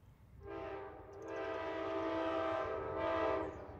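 An Amtrak Cardinal passenger train passing a small station with its horn sounding in long blasts, bright and loud over a low rumble of the train rolling by.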